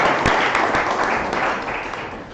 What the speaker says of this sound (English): would you give yourselves a round of applause?